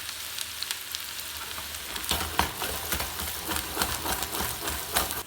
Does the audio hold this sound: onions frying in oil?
yes